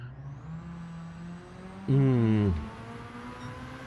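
A car engine in a racing video game time trial briefly revs up and falls back over a steady, low engine drone.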